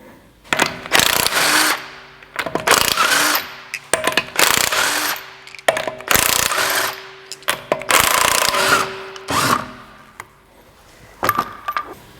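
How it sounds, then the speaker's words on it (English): Power tools remove the wheels from a car, with repeated loud bursts of impact-wrench rattling roughly every two seconds, separated by short pauses and metallic clinks. "But first, let's get the wheels off."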